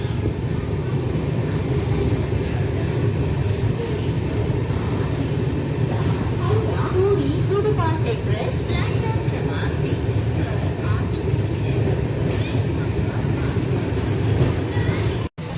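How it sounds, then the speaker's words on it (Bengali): The 12837 Superfast Express pulls out of Cuttack Junction with a steady, loud rolling rumble and rail clatter that carries on without a break, plus a few faint higher clanks partway through. "বন্ধুরা আমাদের ট্রেন এখন ছেড়ে দিল"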